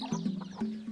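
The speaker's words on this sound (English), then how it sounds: "they have chickens, which are used mostly for meat." Chickens kept for meat in a highland village in Rwanda, with soft, close clucks heard in two short bursts over a low steady background.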